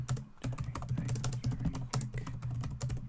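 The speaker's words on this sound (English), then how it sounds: "I'm just going to be typing." Steady typing on a computer keyboard during a livestream, quick uneven key clicks close to the microphone over a low background hum.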